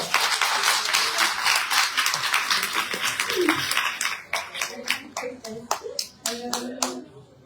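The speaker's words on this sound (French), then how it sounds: "Donc, on peut l'applaudir." Audience applause for a jury member at a prize ceremony for a geocaching creation contest at a national prehistory museum, a dense roar of many hands that thins into scattered separate claps toward the end.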